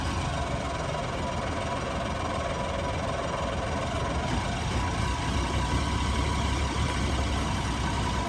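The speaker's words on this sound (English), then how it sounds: "She really doesn't want to start, guys." A Mercury 90 two-stroke outboard engine struggling through a cold start: a dense, continuous rough mechanical rumble and vibration held at a steady level throughout, close by, with no distinct firing or catching.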